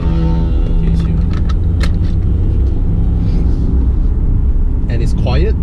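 Inside a 2018 BMW X3 G01 on the move, a low, steady road and engine rumble fills the cabin while a person talks over it.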